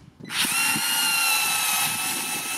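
A power screwdriver starts up after a brief pause and whirs steadily at a high pitch while unscrewing, close by and loud, with faint knocks underneath.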